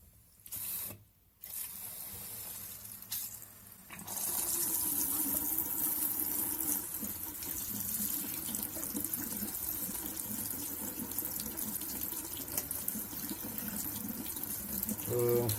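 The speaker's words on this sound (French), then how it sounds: "Alors on va ouvrir l'eau." A water tap runs into a small instant water heater, with a steady close hiss of flowing water. It starts after a few brief sputters and keeps going without a break.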